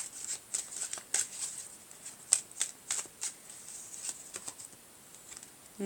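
Tarot cards shuffled by hand close up, a rapid, irregular run of crisp papery flicks and riffles continuing steadily for several seconds with no talking.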